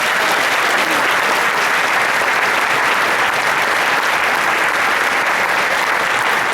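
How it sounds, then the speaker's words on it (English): Students and crowd at a high school marching band stadium event applaud band alumni with a loud, dense, continuous wash of clapping that holds steady from start to finish. "Can we please have a round of applause for all of our alumni?"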